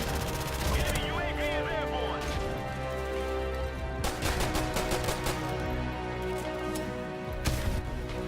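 Rapid submachine-gun bursts from a P90 in Call of Duty: Modern Warfare Remastered crackle under continuous game sound and background music, with dense repeated shots clustering around several moments and a voice talking over much of it.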